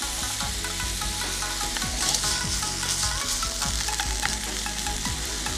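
Chopped soy meat is sautéed in a pan, with a loud continuous sizzle and repeated scraping strokes of a utensil stirring it close up, no voices.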